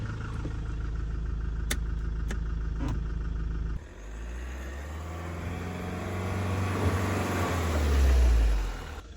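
A Mahindra Scorpio S10 idles with 4x4 low engaged, a steady low engine hum that shifts near the midpoint, then swells as the engine revs and loads up before easing off at the end.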